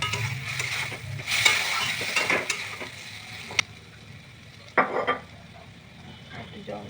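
Shrimp fry in a pan with turmeric and mustard paste, giving a steady close sizzle with scraping stirs and a few sharp clinks of utensil against metal.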